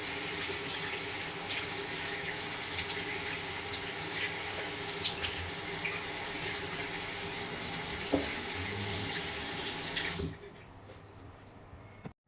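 Running water splashes steadily for about ten seconds as a face is rinsed after soaking with a brightening skin product, then stops abruptly, leaving quiet room tone.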